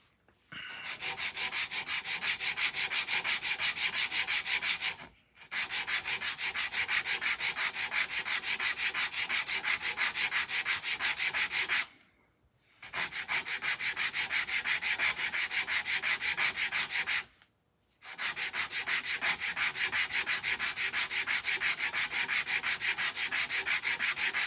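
A small wooden miniature table being sanded by hand with sandpaper, close, steady rasping strokes in four long continuous runs separated by brief pauses, with no talking.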